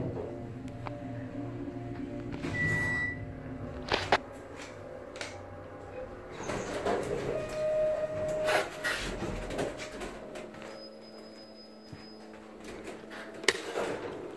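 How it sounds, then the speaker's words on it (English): An Otis elevator motor hums at a Holiday Inn in Little Rock, Arkansas, a low tonal drone under scattered clunks, clicks and short whirring tones from the cab and machinery, with a few brief louder knocks. "Ooh, that is a nice motor."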